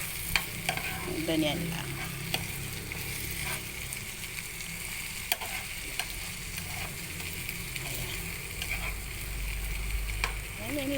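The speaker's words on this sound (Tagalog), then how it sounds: "Halo-haluin lang natin ang konti." Tuna sisig with onions is stirred in a pan, a low steady sizzle with repeated scraping and clinking stirs; a voice speaks briefly over the cooking.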